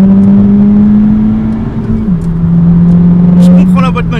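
Manual Honda Civic Type R engine droning steadily from inside the cabin, pitch holding then dropping at a gear change before climbing again, loud and continuous while occupants talk over it.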